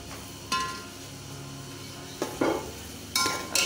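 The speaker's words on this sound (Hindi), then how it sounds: "इसको भून लेते हैं अच्छी तरह, कीमा को 5 मिनट तक भूनेंगे" Keema with tomatoes stir-fried in a pan over a medium flame, heard as a faint low sizzle broken by a few sharp spatula scrapes and clinks against the pan.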